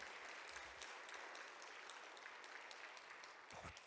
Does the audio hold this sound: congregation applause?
yes